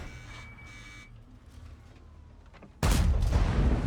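After quiet electronic tones and hum, a sudden loud blast erupts and rumbles on to the end, a heavy cannon shot from a Tiger-Maus tank in a video game.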